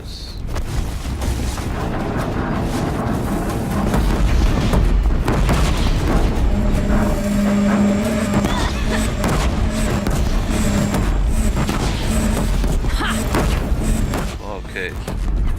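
Heavy booms and blasts from exploding discs fired by a disc launcher in Horizon Zero Dawn, dense and loud throughout alongside game sound, with a voice talking over parts of it.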